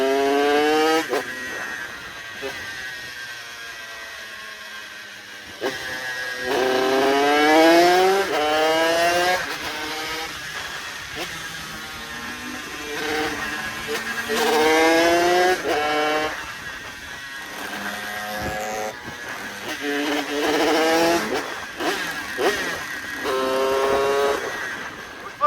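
Motorcycle engine running steadily during a group ride, poorly tuned at low revs, with repeated rising and falling rev sweeps and gear changes, loud and close throughout, with faint wind noise underneath.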